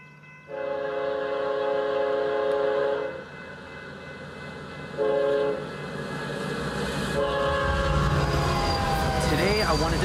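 A train passes on the BNSF Chillicothe subdivision, its horn sounding in two loud sustained blasts and then again more faintly, over a steady rumble of rail cars rolling close by.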